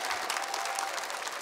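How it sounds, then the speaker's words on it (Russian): Audience applause fills a concert hall after a heartfelt singing performance, a dense, steady roar of clapping from a large crowd, loud and continuous with no voices over it. "в конце зал взрывается овациями"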